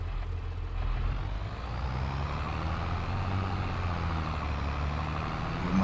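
A tractor engine in Farming Simulator 22 labors under a heavy load it is underpowered for, a steady low rumbling drone with constant strain and no voices.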